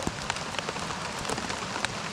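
Outdoors on a fishing trip, rain falls in a steady dense hiss with scattered sharper drop taps, close and continuous for the whole stretch, with no voices.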